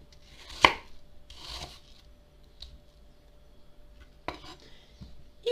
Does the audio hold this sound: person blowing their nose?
no